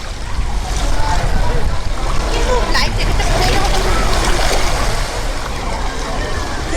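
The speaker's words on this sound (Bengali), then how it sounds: "এই আমরা যাচ্ছি জলের মধ্যে দিয়ে" People wade through shallow sea water while island hopping at El Nido, Philippines, over rocky ground, with steady splashing and surf, and a crowd of voices chattering throughout.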